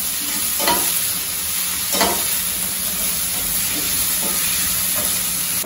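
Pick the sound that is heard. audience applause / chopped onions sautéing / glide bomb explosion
chopped onions sautéing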